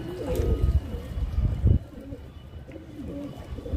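A pigeon coos in soft repeated low calls while being dipped in water, with some handling and splashing noises alongside.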